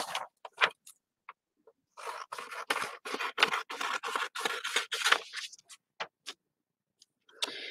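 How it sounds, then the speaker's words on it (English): Scissors snip through paper while a book is altered into a journal, with a dense run of quick crisp cuts in the middle and scattered single snips before and after, close and fairly quiet. "Instead of hearing me rip paper, you're going to hear me cutting paper now for a little bit."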